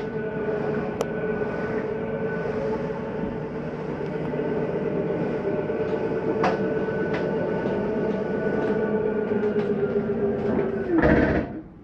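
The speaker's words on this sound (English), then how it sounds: "It's okay to hear that noise. It's just the slide mechanism saying I'm in as far as I need to go." Kitchen slide-out on a 2022 Jayco Pinnacle 38FLGS fifth-wheel RV retracting, a steady motorized whine and hum that runs for about ten seconds, then rises into a brief louder clunk and grind as it reaches its stop.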